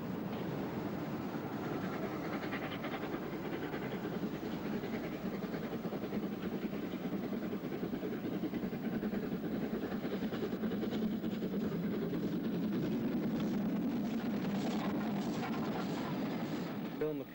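Flying Scotsman steam locomotive hauling a private tour train with a wooden Great Northern saloon across Arten Gill viaduct near Dent in summer 1978, a steady, continuous rumble and churn of the train held at an even loudness throughout.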